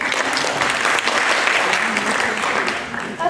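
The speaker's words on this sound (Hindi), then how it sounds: "बाबा अश्विन के लिए जोरदार तालियां" Sustained, dense clapping fills the hall as an audience at a Hindi youth stage performance applauds. Toward the end it thins out and voices begin to come through.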